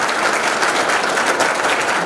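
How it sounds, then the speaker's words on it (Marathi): Audience applause for study-centre students at a rural community event, a dense, steady wash of many hands clapping together throughout, fairly loud and close with no break. "अभ्यासिकेच्या सगळ्या विद्यार्थ्यांचं आपण जोरदार टाळ्या वाजवून अभिनंदन करूया"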